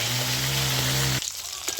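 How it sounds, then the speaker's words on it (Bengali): Pangas fish fries in oil with a close, even sizzle over a steady hum, then the sizzle drops abruptly to a quieter crackle for the final moments. "মাছটাও এদিকে ভাজা হয়ে গেছে, আমি এবারে উল্টিয়ে দিচ্ছি মাছটা।"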